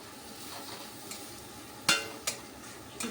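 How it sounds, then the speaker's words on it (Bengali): Dried fish (shutki) dusted with Kashmiri red chili powder fries in a pan under a soft steady sizzle, broken by three sharp scraping stirs of a utensil against the pan toward the end. "এখন একটু ভাজবো"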